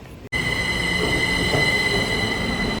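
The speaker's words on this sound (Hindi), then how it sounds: "गाइस हम मेट्रो से निकल चुके हैं।" A metro train runs with a loud, steady rumble and a high, sustained whine, beginning abruptly after a brief quiet moment and continuing without a break; no one speaks.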